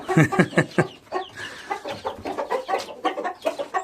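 Chickens clucking with a chick and a rooster on a farm, a run of close, loud, choppy clucks and calls in quick bursts, with a voice talking briefly among them.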